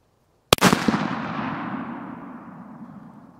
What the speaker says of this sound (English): Should we shoot a can of cheese?